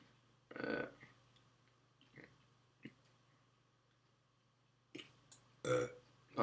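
Burps from a man, several short bursts spread out with a couple of louder, fuller ones near the end, close to the mic in a quiet room.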